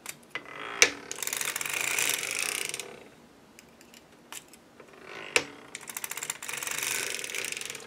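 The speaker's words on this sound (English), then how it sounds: "Knit across, lift a needle, watch it knit back, lift a needle, etc., etc." A circular sock machine knits a heel, the crank driven back and forth in short passes: close, dry ratcheting clicks and whirring gear noise in bursts, with brief pauses between rows and no talking.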